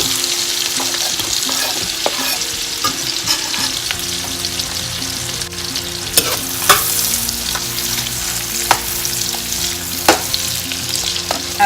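Chopped onions fry in extra virgin olive oil and melted sweet cream unsalted butter for a Caribbean red bean stew, a loud, close, steady sizzle punctuated by sharp ticks and scrapes of stirring.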